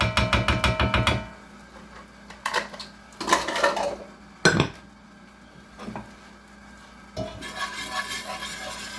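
Metal utensil scraping and clinking against a pan while flour is stirred into oil for a curry turkey sauce, a rapid rattling burst at first, then scattered scrapes and knocks with quiet gaps.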